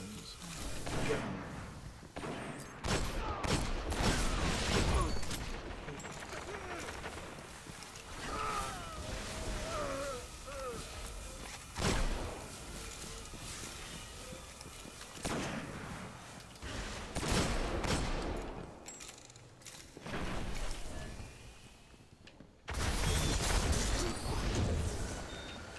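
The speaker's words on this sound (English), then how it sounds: "That's a fucking pistol." Pistol fire in the Destiny video game, bursts of sharp shots scattered throughout with loud rapid volleys among game noise and a voice.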